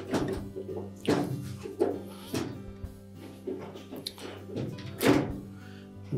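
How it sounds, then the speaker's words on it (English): A motor is lifted off its rear bracket inside a Whirlpool clothes dryer during a repair, giving a series of close, dull thunks and knocks of metal parts shifting at irregular intervals. "Now we can lift that motor off of the rear bracket."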